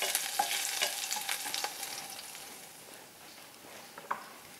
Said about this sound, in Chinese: 然后我就把大蒜和辣椒放进去炸一炸，特别香